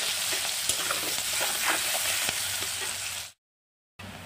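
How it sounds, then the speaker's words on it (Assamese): Onions sizzle steadily in hot oil with panch phoron for aloo dum, a dense frying hiss with occasional stirring clicks, cutting out briefly near the end before resuming. "এতিয়া পিঁয়াজখিনি অলপ ৰঙাকৈ ভাজি ল'ম।"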